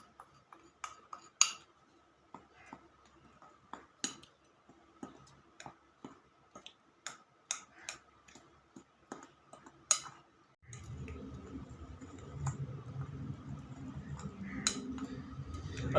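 Spoon tapping and clinking against a bowl while gram flour and sugar are mixed for oven-free nankhatai, light irregular ticks at close range, then a soft low rubbing rumble of mixing near the end.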